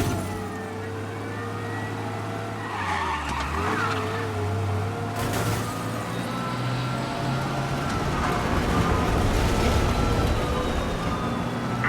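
A car engine in Mafia: Definitive Edition roars and revs at speed with tire noise and scattered skids and clatters, continuous and fairly loud.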